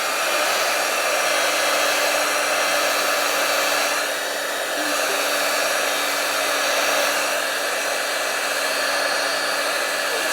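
A heat tool blows steadily and loudly, melting embossing powder on stamped feathers in a paper-crafting session. Its broadband hum runs the whole time, with one slight dip partway through, and no one speaks.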